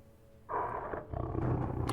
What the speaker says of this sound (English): and it's growling. There's an actual tiger in this room.